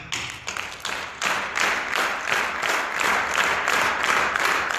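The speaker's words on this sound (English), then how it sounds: "Now if you could help me out with some clapping" Audience clapping along in time at a Martin Luther King Jr. celebration, rhythmic claps from many hands starting somewhat ragged and quickly settling into a steady, loud beat with a faint musical backing.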